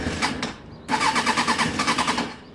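A motorcycle engine is cranked and fails to catch: a short burst of turning over, a pause, then a longer run of rhythmic churning pulses that never settle into running, close and fairly loud.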